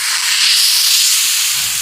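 Thalipeeth made with raw mango and cucumber dough is being lowered onto a hot tava. It gives a steady, loud, close hiss of sizzling that lasts the whole stretch, with no voices over it.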